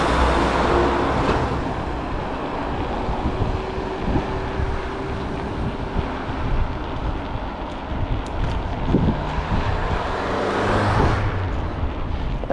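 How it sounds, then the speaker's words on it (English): Evening rush-hour road traffic rumbles steadily as a bicycle passes under the B308 road near Schaftlach in Bavaria, a continuous broadband roar with wind noise and passing vehicles swelling throughout. "There is a little bit of traffic now."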